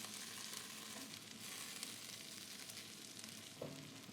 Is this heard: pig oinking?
no